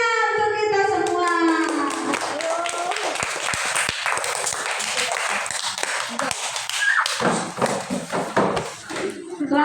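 A classroom group of teachers and students breaks into loud, dense clapping that starts over a few children's voices and fades out toward the end.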